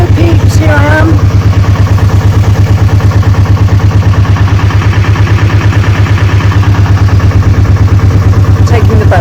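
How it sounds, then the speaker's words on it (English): A steady, loud engine drone with a low rhythmic throb running continuously, close by, with brief voices or squeaks at the start and end. "Taking the boat out for a bit."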